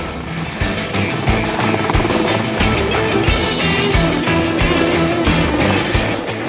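A helicopter flying in windy mountains over icefields, its rotor thumping steadily and loudly with a dense mechanical roar, continuous throughout with no voices.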